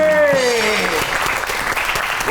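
Loud studio audience applause fills a comedy talk show stage as a guest is introduced, steady dense clapping throughout, with a brief tonal musical sting fading out at the start.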